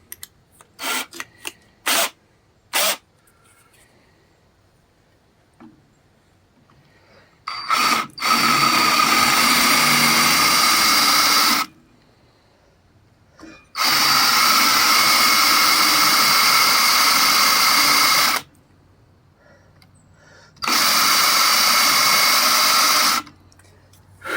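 A Hudson milling machine drills a hole in three long, loud, steady bursts of grinding whine, each several seconds long and separated by quiet pauses, with a few sharp clicks and knocks at the start.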